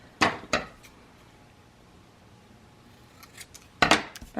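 Scissors snipping leftover paper pieces for a mini album at a crafting table: two quick close cuts, a quiet pause, then a few more snips and a cluster of sharp cuts near the end, with no talking.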